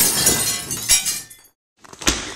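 Window glass breaking, a sharp crash and scatter of shards followed by a brief silence and a second clattering burst of glass, close and loud.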